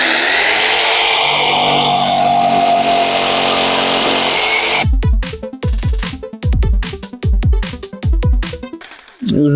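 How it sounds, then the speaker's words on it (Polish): A power saw cutting wooden roof rafters in a workshop being built, with a loud sustained whining cut for about five seconds, then a series of rapid choppy bursts and stops, close and alone. "Piłuję."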